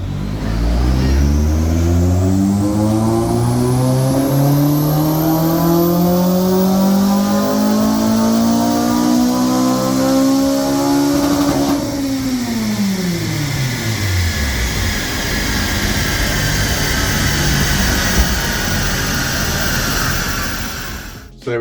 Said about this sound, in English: Let's go and hear some K20 screaming